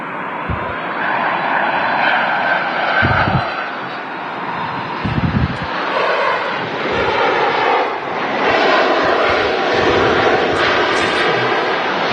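A JetMagic Boeing 757 landing at Manchester Airport on a gusty evening, its steady engine roar and broadband rumble sustained throughout with wind buffeting the microphone and low thumps, fairly loud and continuous.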